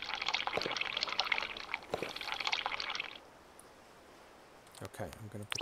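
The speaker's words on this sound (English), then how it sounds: "we grab our cup and we drink the water" Water being drunk from a cup in the sailing game Sailwind, heard as about three seconds of liquid slurping and pouring that stops abruptly, then a brief rattle of other game sounds.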